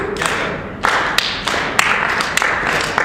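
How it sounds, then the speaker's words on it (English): An audience claps together in a regular beat, crisp hand claps landing at evenly spaced intervals over a low background murmur, close and fairly loud at a singalong performance. "You guys clap."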